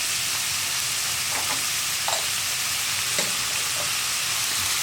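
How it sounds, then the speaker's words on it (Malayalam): Sliced onions with curry leaves and salt sizzle steadily in a pan, with a constant loud frying hiss and occasional scraping clicks of a spoon stirring, close up and without talk. "ഇത്രയും ചേർത്തിട്ട് ഇനി സവോള നന്നായിട്ട് കുക്കായി വരുന്നത് വരെ ഇളക്കി കൊടുക്കുക."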